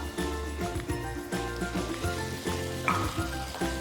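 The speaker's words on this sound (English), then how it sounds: "So we're going to put our Australian lamb inside the pot." Pieces of Australian lamb go into a hot pot for curry and sizzle up close, a steady crackle broken by soft clatters and stirring knocks in an uneven rhythm.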